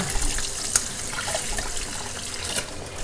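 Tap water pours steadily while sea crabs are rinsed clean of sand for a Konkan-style crab curry, a loud close rushing stream with a few small splashes and knocks, no talking.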